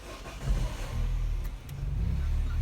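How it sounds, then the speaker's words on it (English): A 2008 Peugeot 308 1.6 petrol hatchback engine cranks and fires, then settles into a steady low rumbling idle, close and continuous with no talk over it. "let's quickly start the vehicle as well"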